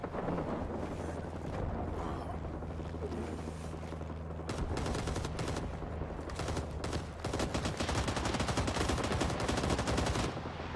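Machine gun fire from an MG in an upper window in Rising Storm: Vietnam, sustained rapid bursts that grow denser and louder over a steady battlefield rumble.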